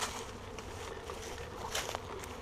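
A honeybee swarm gathering outdoors makes a steady, dense buzz that holds at an even level from start to finish, with no one speaking.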